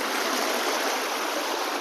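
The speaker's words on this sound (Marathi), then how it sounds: "इथून जर आपण खाली गेलो ना तर हे धबधबा आहे बघा" Steady, dense rush of a waterfall in the Konkan monsoon, continuous and fairly close, with no breaks or voices.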